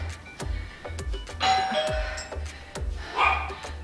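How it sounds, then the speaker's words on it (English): A two-tone doorbell chimes at a home during a total-body dumbbell workout, with a low repetitive thumping beat and a dog barking in the background; the chime rings twice, fairly close and clear. "There's the doorbell."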